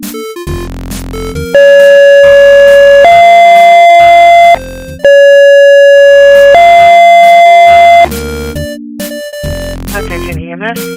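Loud two-tone EMS page alert over a dispatch radio: long sustained electronic tones stepping between pitches, each held a second or two with a brief gap, bracketed by radio static and chatter.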